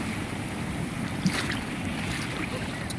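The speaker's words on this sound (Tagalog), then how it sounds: "Alon." Steady rushing of ocean waves and wind noise at Bagasbas Beach, Daet, Camarines Norte, with a continuous wash and no voices.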